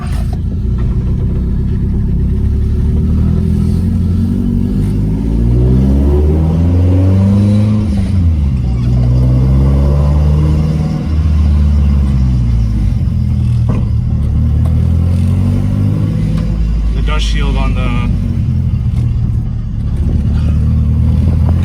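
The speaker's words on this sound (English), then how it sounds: "Just going for a test drive to make sure the brakes are good" A car engine rumbles and revs steadily while driving, with shifting pitch as it accelerates and slows, a clatter near the end, no talking.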